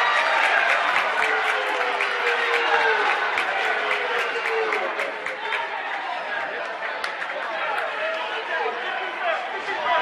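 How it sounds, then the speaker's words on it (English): A home crowd at a basketball game reacts to a jump ball call, with loud sustained crowd noise, scattered clapping and shouting, and sneaker squeaks; a commentator talks over it. "Big disagreement by the home crowd there."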